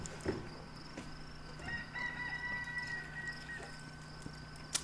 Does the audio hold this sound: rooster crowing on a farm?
yes